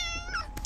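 A single short cat meow, faint and close, with a quick rising and falling cry.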